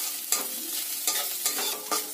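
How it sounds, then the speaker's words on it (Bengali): Ginger paste is stirred into onions frying in a pan, with a soft sizzle beneath several distinct scraping strokes, close and fairly quiet. "এতে দিয়ে দেব আগে থেকে আদা আমি বেটে রেখেছিলাম, সেই আদা বাটা এতে দিয়ে দেব। দিয়ে ভালো করে নাড়তে হবে।"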